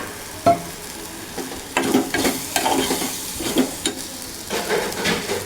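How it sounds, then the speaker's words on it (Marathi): Lablab bean sprouts and oil being sautéed in a pan, with a low sizzle under repeated stirring scrapes and knocks of a spatula against the pan, close and without talk. "ते सुटेपर्यंत चांगलं परतलं की छान चव येते जेवणाला म्हणून मी ते परतून परतून घेते"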